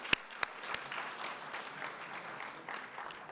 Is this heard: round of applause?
yes